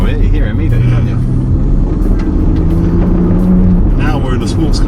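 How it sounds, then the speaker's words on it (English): A Porsche Panamera 4 Turismo in Sport Plus mode rumbles and revs from inside the cabin, a loud low engine and exhaust drone rising and falling steadily, with people talking over it. "Time to put it in Sport Plus then, yeah? Yeah, give it some. Let's listen to those exhaust notes."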